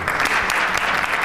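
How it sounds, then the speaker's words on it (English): Applause from the audience at a university debate event, a thick, loud wash of many hands clapping at once, steady and continuous through a brief moment. "Another round of applause, please."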